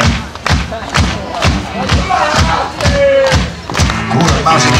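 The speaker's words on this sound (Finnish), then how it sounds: "minkähän takia noi ihmiset tuolla taputtaa?" A group of people clap together in a steady, rhythmic beat, each hit landing about twice a second. Crowd voices and cheering rise over the clapping.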